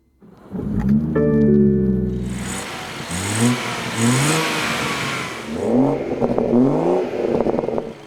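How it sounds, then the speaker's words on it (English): A 2018 BMW M240i with a turbocharged inline-six is revved hard several times. The engine note climbs and falls in repeated rising sweeps, loud and close, with a rougher burst between the pulls. "The 240 arrives with a turbocharged inline-six that twists out an effortless 340 horsepower"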